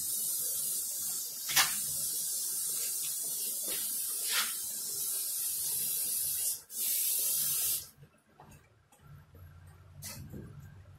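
Degreaser sprays from a can onto old, cracked drum brake shoes and parts from a Jeep Wrangler's rear brakes: a loud, continuous close hiss with brief pauses, ending in quieter handling noises.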